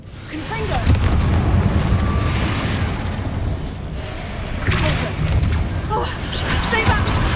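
Repeated booming blasts of the Confringo fire spell in Hogwarts Legacy, loud bursts recurring every few seconds amid game action, with a voice calling out spells.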